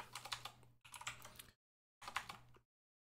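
Keys clatter on a computer keyboard as a PowerShell command is entered, in two quick bursts of typing, a short pause, then a third brief burst before silence, with a low steady hum underneath.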